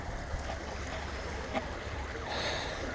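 Steady broadband wash of a river flowing nearby, even and continuous with a slightly brighter surge near the end, no voices.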